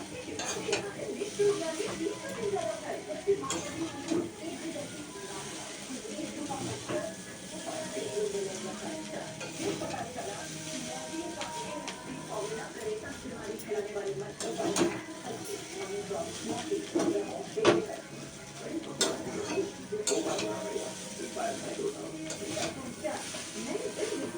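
Chow mein noodles are stirred and tossed in a hot pan, giving a steady sizzle and scraping that runs throughout, with occasional clanks of the utensil and a voice talking over it.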